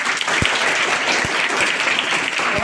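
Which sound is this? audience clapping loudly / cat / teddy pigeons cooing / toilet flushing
audience clapping loudly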